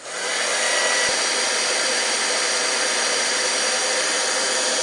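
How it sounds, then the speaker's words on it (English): A heat gun blows hot air in a steady, loud, broadband whoosh that starts abruptly and holds constant for several seconds, close to the microphone with no voices. "now I'm going to bring in my heat gun"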